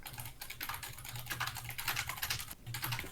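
Quiet, close tapping on a computer keyboard, a quick irregular patter of keys with a short gap near the end and no voices.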